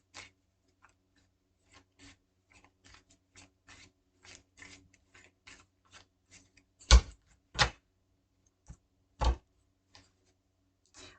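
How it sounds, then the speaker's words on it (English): Tarot cards being shuffled by hand: a run of soft, irregular papery ticks and riffles, with a few louder sharp card snaps toward the end, close and quiet with no talk. "I'm going to give them a little bit more of a shuffle."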